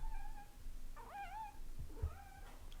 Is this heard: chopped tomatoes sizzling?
no